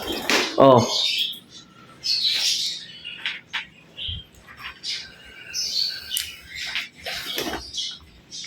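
An Indian ringneck parrot gives sharp, raspy squawks and chirps at close range, repeated in bursts over rustling and faint background noise.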